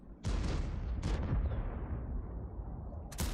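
A heavy Type-71 tank cannon blast in World of Tanks booms and rolls away, followed by another shot and a sharp crack near the end, all loud and close.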